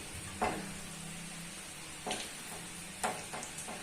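Cabbage for gobi fries in hot oil, giving a quiet steady sizzle broken by a few sharp stirring scrapes and clinks of the utensil against the pan.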